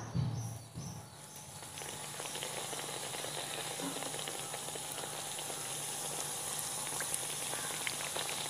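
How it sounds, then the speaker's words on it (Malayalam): Doughnuts bubble and sizzle in hot sunflower oil, a steady close hiss of frying with a few louder crackles near the start and no talking. "ഇനി ഇതൊന്ന് ഫ്രൈ ആയി വരണം"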